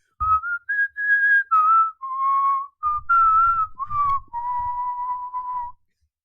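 A person whistles a theme, a clear solo melody of sustained notes and short phrases, close and fairly loud, with faint handling noise under parts of it.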